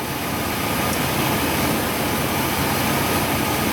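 A car engine revs up toward 3,000 RPM during a check for vacuum leaks, a steady loud broadband drone holding high throughout without clear rises or dips.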